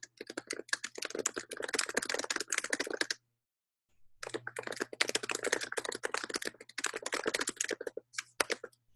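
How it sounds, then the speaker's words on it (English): Rapid keyboard typing in close, busy bursts, broken by a short silent pause about a third of the way through, with a low steady hum underneath and no one speaking. "let me type something here"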